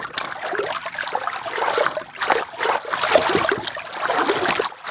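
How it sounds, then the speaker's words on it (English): A water splashing sound effect: continuous splashing and churning water, close and fairly loud, surging in uneven waves without any pause. "So let's see if we can really get some nice splashes going"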